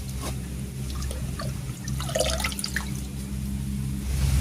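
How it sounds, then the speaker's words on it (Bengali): Kanai greens being washed by hand in changing water during the rainy season, with soft drips, trickles and splashes close by, a brief burst of sloshing in the middle. "শাকগুলো জল পাল্টে পাল্টে খুব ভালো করে ধুয়ে নিলাম"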